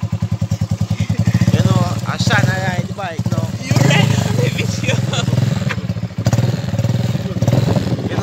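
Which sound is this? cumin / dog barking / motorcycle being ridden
motorcycle being ridden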